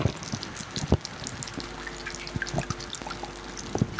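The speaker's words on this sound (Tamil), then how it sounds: "கொஞ்சமாக தண்ணி சேர்த்து" Water poured in a thin trickle into a pan of cooking sauce, a soft splashing dribble with brief drips, close and fairly quiet, no voices.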